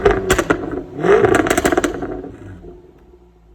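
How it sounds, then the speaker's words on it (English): Jaguar F-Type R V8 exhaust heard from behind the car, revving in a couple of close, loud throttle blips with rattling crackle before settling back toward idle and fading. "One more exhaust clip from the back and that'll be enough revving."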